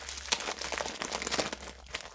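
A sheet of paper being handled and crinkled up close, a quiet run of short dry crackles and rustles with no voice over it.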